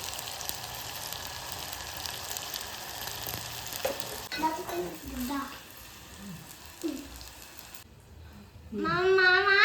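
Potatoes sizzle and crackle in a frying pan with occasional stirring, a steady moderate hiss running underneath while a person talks over it for much of the stretch.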